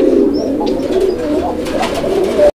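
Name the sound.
yellow domestic Bombay pigeons calling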